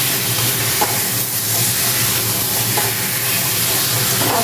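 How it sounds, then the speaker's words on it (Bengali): Meat with spices being fried and stirred in a pan, a loud continuous hissing sizzle with occasional soft scrapes of the spoon, recorded close with no one talking. "এবার মাংসটাকে আমি বেশ ভালো করে কষিয়ে নিচ্ছি"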